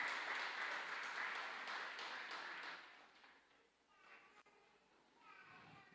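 A church congregation applauds for the children, a steady wash of clapping for about three seconds that fades into quieter room sounds and a voice speaking.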